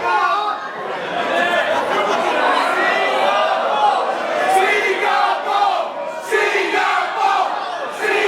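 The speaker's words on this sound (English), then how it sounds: "But the local hometown crowd with the Singapore chant trying to motivate Andrew Tang." A hometown wrestling crowd chants Singapore in rhythmic group shouts, swelling and dipping in loud waves of many voices over a busy arena murmur.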